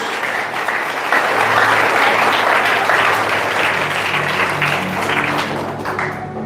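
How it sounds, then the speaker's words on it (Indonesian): Sustained applause from a church healing-service congregation in a hotel ballroom, a dense steady roar of many hands clapping that swells and holds for several seconds, with a low hum underneath. "Ayo tepuk tangan untuk Yesus."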